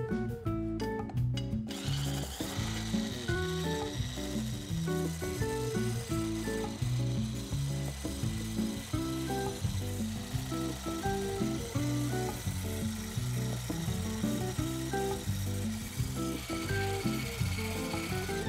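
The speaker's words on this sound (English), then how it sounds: "continue to whisk this very, very slowly on low heat for about seven minutes." A sauce being whisked slowly in a pan over low heat, with soft, steady, faint rhythmic scraping and clicking against the pan, repeating evenly throughout.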